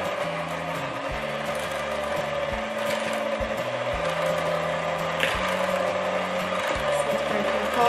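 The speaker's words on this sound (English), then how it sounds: "we've got our butter and our sugar. And we're going to mix that on a low speed." An electric mixer creams butter and sugar on low speed with a steady mechanical whir, while a rhythmic clicking, grinding rattle carries on under it and stays loud and close throughout.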